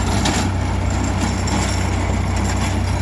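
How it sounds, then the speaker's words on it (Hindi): A Sonalika DI 745 III DLX tractor runs steadily while ploughing a field, its engine a loud, close, continuous diesel rumble with an even throb and no pauses. "देख सकते हैं ट्रैक्टर कितना बढ़िया चला रहा है"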